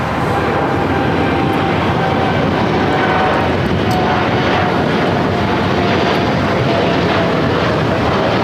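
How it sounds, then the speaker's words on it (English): An American Airlines Dreamliner jet takes off on runway 25 right at LAX, its engines a loud, sustained roar with a faint whine running steadily throughout, no voices over it. "We have an American Dreamliner now, rolling on 25 right."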